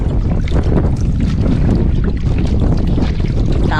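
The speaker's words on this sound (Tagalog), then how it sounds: "lakas ng hangin" Strong wind roars over a small fishing boat at sea in rough, choppy waves, a loud, steady buffeting rush that fills the whole scene without a break.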